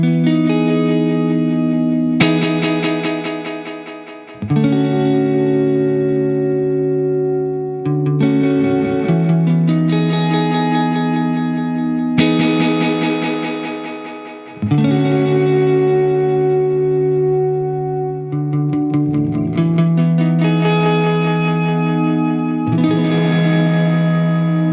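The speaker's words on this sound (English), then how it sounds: "that's how overdriven we want the echoes to become" An electric guitar played through a 2016 digital delay pedal rings out in chords struck every few seconds, each one trailing into saturated, overdriven echoes that swell and smear together, with no talking.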